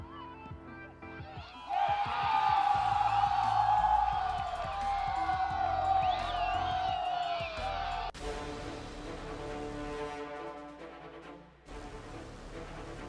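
A crowd cheering and whooping loudly after a save, the roar swelling, holding for several seconds and then cutting off, followed by a quieter stretch with lingering background noise.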